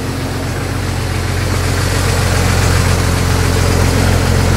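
A Ford truck engine idles with a flow exhaust, giving a loud, steady, low rumble and vibration that continues unbroken and close throughout, with no talking.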